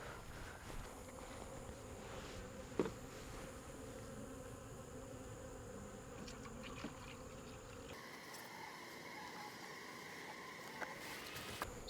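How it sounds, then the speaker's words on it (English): Bees buzz steadily around a feed bucket at a hive during the late-summer dearth, a continuous close insect drone with brief louder passes, no talking. "So I need to move fast because this is going to get covered with bees."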